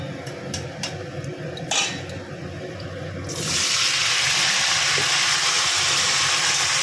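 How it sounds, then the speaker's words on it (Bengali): Cut beans, aubergine, potato and sweet potato hit hot oil for Bengali dudh shukto. A few soft kitchen clinks come first, then a sudden loud, steady hiss of sizzling takes over and holds to the end. "সিম বেগুন আলু রাঙালু সব কাটা আছে এগুলো দিয়ে দেবো তেলের মধ্যে"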